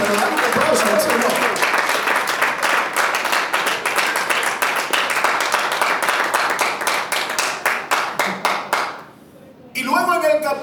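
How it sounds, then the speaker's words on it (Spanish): A church congregation applauds during a Spanish-language service, with loud sustained clapping that turns into slower rhythmic claps, stops briefly, and then gives way to voices. "pero dale un aplauso al Señor"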